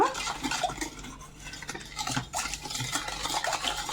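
A milk and flour mixture for homemade whipped cream being stirred with a utensil in a bowl: continuous scraping and swishing with small clinks, close and fairly loud, without speech.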